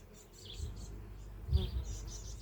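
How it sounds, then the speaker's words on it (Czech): Bumblebee buzzing near beehives, a low droning hum that swells as it passes close, with faint higher insect whine around it. "čmelák."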